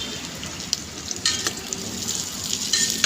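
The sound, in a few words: onion, chili and peppercorns frying in pot for beef papaitan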